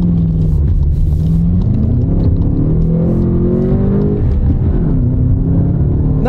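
A turbocharged car in sport mode accelerates up a hill, its engine rumbling loudly and climbing steadily in pitch as the boost builds, heard close and continuous from inside.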